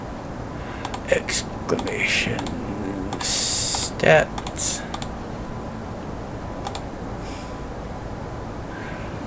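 Typing on a computer keyboard, a scattered run of short clicks and taps at moderate level, mixed with a few louder bursts and intermittent talk nearby.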